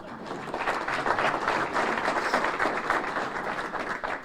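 A room at a mayor's State of the City address gives a round of applause, a dense, even wall of clapping that swells quickly and holds steady at moderate volume to the end.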